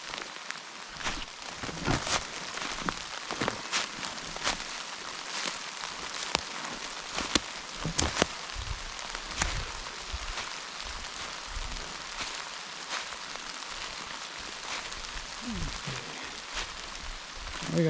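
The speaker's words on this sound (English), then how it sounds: "then we're going to get out of the rain." Steady rain patters on surfaces nearby, with scattered louder drops and crackles over a constant soft hiss.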